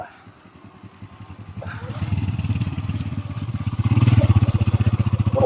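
A motorcycle engine hums steadily while riding along a narrow road, its pulsing drone growing louder partway through, with people talking over it.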